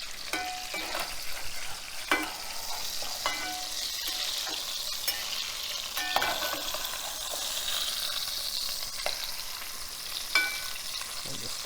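Food browns in a frying pan with a continuous, even sizzle and occasional sharp crackles and pops, close and moderately loud.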